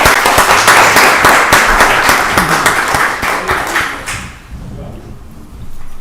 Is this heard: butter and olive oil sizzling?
no